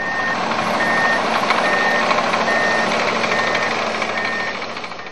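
Road paving and improvement machinery works on rural roads near Brasileia and Xapuri, with a continuous loud engine rumble and rattle under repeated high reversing beeps, close and steady throughout.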